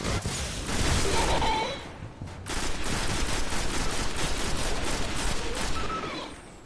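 Heavy weapon gunfire in the video game Destiny, rapid loud automatic bursts, with a short pause midway before firing resumes and continues steadily.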